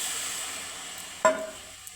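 Water poured into a hot pan of ghee with fennel, biscuit crumbs and cashews, giving a brief sharp sizzling burst over a faint steady background hiss.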